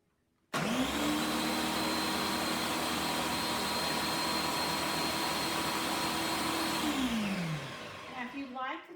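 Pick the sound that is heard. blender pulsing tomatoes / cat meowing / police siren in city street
blender pulsing tomatoes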